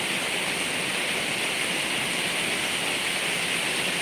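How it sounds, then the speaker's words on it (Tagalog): Heavy rain pours in a dense, steady roar with no pauses or voices, loud and enveloping. "Ang lakas ng ulan."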